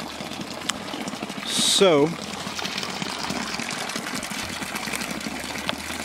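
Natural spring water gushes steadily from a siphoned, gravity-fed pressure line coming down a mountainside on a farm, a constant rushing wash close by. A brief whistling chirp cuts in near the start, and a voice says a single word.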